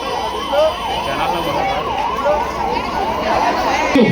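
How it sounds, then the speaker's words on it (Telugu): A loud wailing ambulance siren rises and falls steadily, close by, over a low hum of traffic. "please give way to ambulance"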